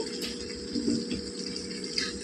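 Water poured into egg and chicken curry in a cooking pot, a steady close splashing flow with a low hum underneath and no talk.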